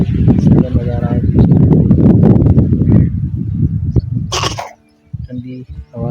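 A child coughs repeatedly in harsh, rough bursts close to the microphone, followed by a brief pause and softer sounds.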